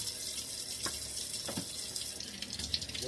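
Mushrooms are rinsed under a running kitchen tap, giving a steady, moderately quiet splash of water with a few soft handling knocks.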